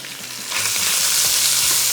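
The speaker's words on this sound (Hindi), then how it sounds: "चिकन को थोड़ा सा फ्राई करेंगे तेज़ आंच पे" Chicken hits a hot pan over high heat and bursts into loud frying about halfway through. The sizzle then holds, steady and close, with no talking.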